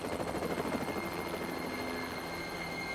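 A helicopter hovers in an animated cartoon, its rotor a steady loud chopping drone throughout with no voices.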